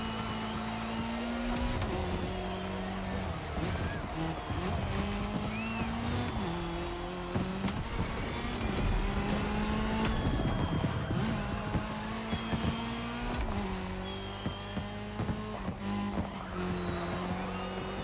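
Race cars roar along tarmac in The Crew Motorfest video game, with engines shifting up and down through gears and a few tire squeals. The sound is loud and continuous, with no talking.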